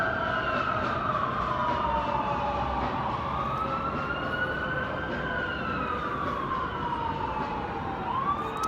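An ambulance siren wails on the Las Vegas Strip, its pitch sweeping slowly up and down over a steady roar of street traffic, loud and continuous throughout with no talking.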